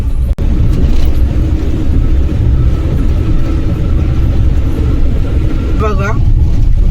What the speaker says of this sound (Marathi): बघा गावात जाणारी गाडी आहे बघा किती असते